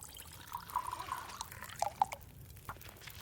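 Water pours and drips in short trickling bursts while tea is brewed in a survival video game, faint and sparse with small liquid splashes.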